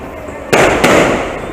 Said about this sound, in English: fishing during fireworks display